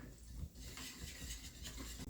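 Cornbread batter made from a Dolly Parton mix with melted real butter being stirred in a bowl, a soft, continuous scraping and clinking of the utensil against the bowl, quiet and close, with no voices.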